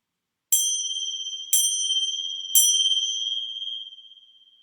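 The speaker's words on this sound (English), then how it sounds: "So the sound of the bell is the reawakening" Three clear bell strikes about a second apart during a yoga session, each ringing with a bright sustained tone that overlaps the next and slowly fades after the last.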